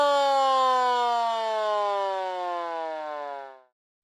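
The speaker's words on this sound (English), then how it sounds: "What sound does the siren on the fire truck make?" A fire truck siren holding a loud, steady wailing tone that slowly drops in pitch and fades before cutting off near the end.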